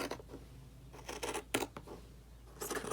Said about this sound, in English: Just cut all that extra fabric around